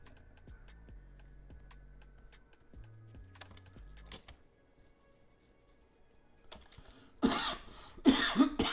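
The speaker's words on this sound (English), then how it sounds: "Still got the cough going on." A single person coughs during a quiet art stream, a short burst of harsh coughs arriving late after faint clicks and soft room noise, close and fairly loud.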